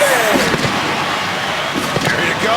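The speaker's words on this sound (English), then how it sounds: "They're firing the cannons." Stadium cannons fired after a Buccaneers touchdown at an NFL game, a loud booming blast washing through a roaring crowd, with a commentator talking over it.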